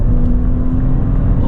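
A 2022 Maserati Levante S accelerates on an empty road, giving a steady, loud engine drone with a low rumble and a slight whir, heard from inside the car.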